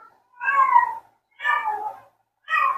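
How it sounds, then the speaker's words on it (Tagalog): Three distinct cat meows, each about half a second to a second long, separated by short silences in an otherwise quiet room. "Meow ng pusa ko yung makaka-capture."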